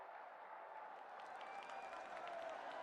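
A large audience at PM Modi's public event in Kushinagar, Uttar Pradesh applauds in a steady, distant wash of clapping that swells slightly toward the end.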